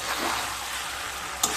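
Cauliflower and mixed vegetables sizzle steadily as they are sautéed in a pan over low to medium heat, with a brief scrape of stirring near the end.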